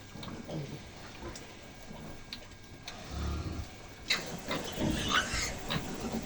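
A sow and her piglets grunting and squealing on a farm, soft close grunts early giving way to busier, louder squeals and snorts in the second half.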